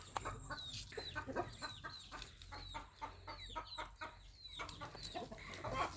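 Frightened chickens in a poultry coop cluck and squawk in quick, overlapping bursts, a restless, agitated chorus that continues steadily throughout with no talking.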